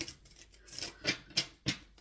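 Tarot cards shuffled by hand in close, quiet bursts: four or five crisp papery swishes roughly a third of a second apart, with no voice over them.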